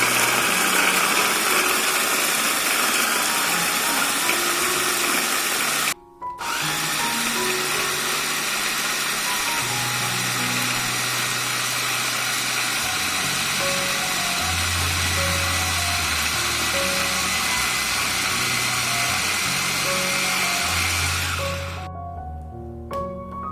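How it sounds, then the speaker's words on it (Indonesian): An electric blender grinds ginger, turmeric, galangal and coconut for gulai kemumu. The motor whines loud and steady, cuts out briefly, then runs on with shifting pitch before winding down at the end. "Lalu kita blender semuanya hingga halus."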